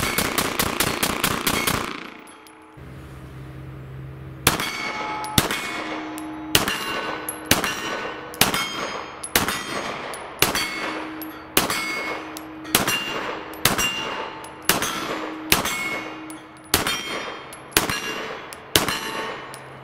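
A Walther Creed pistol fires a long string of sharp, loud shots at a steady pace, each crack ringing with a metallic clang, after a quick opening burst and a brief lull.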